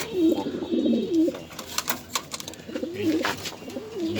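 Pigeons coo in soft repeated phrases close by at a pigeon farm, two bursts of cooing separated by a stretch of light rustling and faint chirps.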